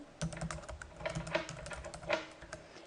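Someone types on a computer keyboard while entering user details into an admin page, close and quiet, with irregular clusters of key clicks and a few louder strokes and no speech.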